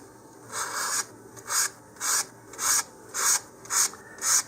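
Rhythmic back-and-forth sanding strokes on an Estes Goblin model rocket body, about eight evenly paced rasps, close and fairly loud with no talking.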